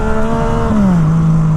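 A Yamaha FZ-09 motorcycle in first gear revs with a quick throttle twist, a loud, close engine tone that holds steady and then drops in pitch as the revs fall, lasting under two seconds.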